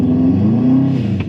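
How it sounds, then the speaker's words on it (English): A Subaru WRX engine held in neutral revs up in one sustained, loud, close burst, its pitch holding high before easing off near the end. "Okay, so it just needs to get revved up a little bit."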